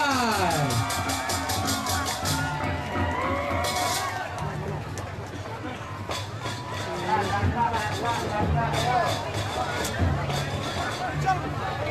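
Audience at an Ogoh-Ogoh parade performance in Bualu, Bali, cheering and clapping as a continuous crowd roar, with background chatter, loud festive noise and music-like tones throughout.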